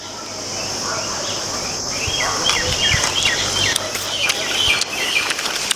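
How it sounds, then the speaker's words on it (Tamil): Birds call among fruit-laden trees outdoors, with scattered chirps rising from the middle of the clip over a steady droning hum of insects. "பறவைகள்லாம் பார்த்திங்கன்னா நிறையா இருக்குது பாருங்கள். சவுண்டு கேட்குது இல்லைங்களா?"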